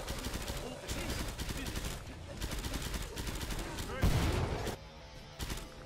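Rapid bursts of video game gunfire crackle across the whole stretch with a heavy boom near the four-second mark, while players talk and shout excitedly over the shooting.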